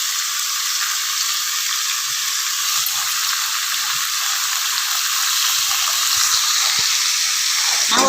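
Tomatoes with salt sauté in a pan for a mint and coriander chutney, hissing in a loud, continuous sizzle with faint scraping of stirring underneath.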